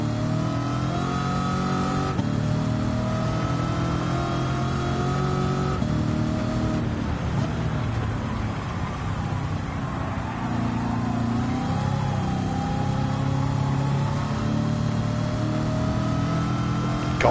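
Car engine in a racing video game, held at high revs and accelerating steadily through the gears, loud and continuous with a dense harmonic drone and no talk.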